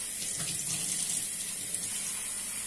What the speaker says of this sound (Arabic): دركا لازم نديرو الماء